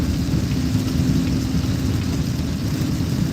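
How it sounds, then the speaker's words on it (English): Steady broadband wash of rain and road noise inside a car driving through New York City on a rainy day, with a constant low engine hum underneath and no voices. "Rainy day."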